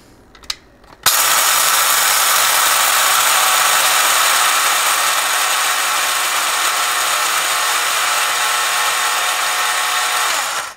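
Electric coffee grinder whirring steadily as it grinds coffee beans fine for espresso, starting abruptly after a brief click and running loud and continuous for about ten seconds.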